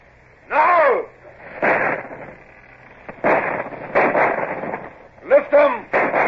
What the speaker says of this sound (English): Starboard guns. Fire as your guns bear.